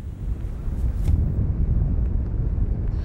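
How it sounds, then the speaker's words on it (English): Strong gusts at the oceanfront buffet the microphone in a continuous, loud rumbling roar, with no one speaking. "we got some really powerful wind gusts out here this morning at the oceanfront"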